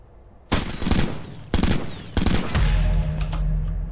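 Video game gunfire in three rapid automatic bursts, loud and close, while lining up headshots, then a steady low rumble continues after the last burst.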